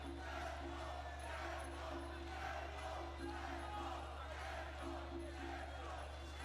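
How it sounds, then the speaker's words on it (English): At an MMA event, a fighter's team and the crowd cheer and shout in a steady, distant roar under a constant low hum, with commentary-like voices blended in. "Zembik has got his whole team over there cheering for him"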